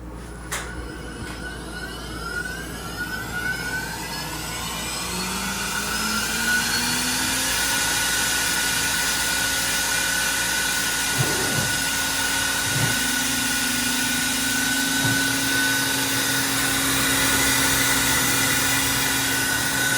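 A CNC machine test-running a foam cut on a vacuum hold-down table, a steady droning whine and motor hum rising after a few seconds, with shifting tones and brief pitch changes as the tool moves.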